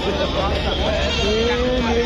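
Bleating goats call out several times over a busy crowd murmur, their wavering cries rising above the steady hubbub of a livestock market in Siddipet.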